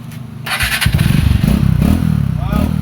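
A motorcycle engine revs up close by, a loud rumbling exhaust with a crackling burble that rises and falls in quick bursts.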